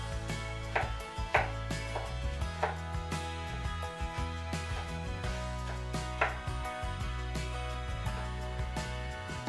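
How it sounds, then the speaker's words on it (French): A knife finely mincing a garlic clove and chopping ginger slices on a board for Chinese beef stir-fried noodles: crisp, close chops at an uneven rhythm over steady background music. "La gousse d'ail en brunoise. Et réservez la même sort pour les tranches de gingembre."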